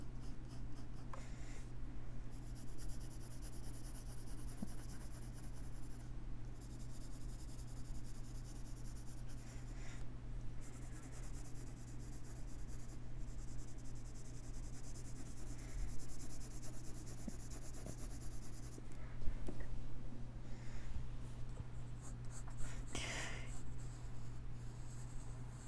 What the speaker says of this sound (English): And we're going to draw the clouds just a bit